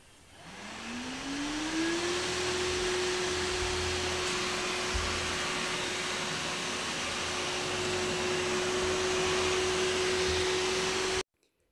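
A Samsung Powerbot R7040 robot vacuum picking up powder on its spot setting at highest power spins up to a steady, loud whine and runs continuously before cutting off abruptly at the end.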